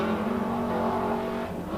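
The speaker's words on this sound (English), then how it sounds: "Looks like you got Tim Shepner out there turning some laps in his Evo" A Mitsubishi Evo laps Buttonwillow raceway during a time attack final, its engine droning loud and steady at high revs before easing slightly near the end.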